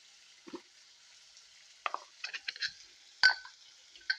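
Garam masala and cumin powder frying in a pan for a chickpea curry give a faint, steady sizzle, broken by a few sparse scrapes and clinks from stirring, with no voices.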